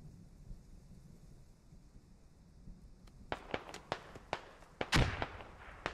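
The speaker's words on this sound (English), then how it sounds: "It's a very, very accurate fire from the INS right now." Enemy gunfire in the Squad video game arrives as a burst of sharp, fairly distant cracks, about a dozen irregular shots starting midway, one louder bang standing out, over a quiet rumbling background.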